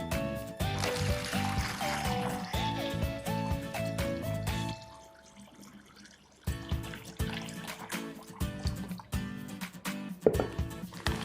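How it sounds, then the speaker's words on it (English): Water pours into a ziploc bag as it is filled about halfway, a close, quiet trickle and splash that pauses briefly midway before resuming. "approximate half fill the ziploc bag with water and seal it"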